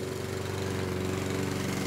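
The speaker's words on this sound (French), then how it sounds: "La tondeuse à gazon." Petrol lawn mower engine running steadily at close range, a continuous droning hum with a regular rapid pulsing and no pauses, alone without speech.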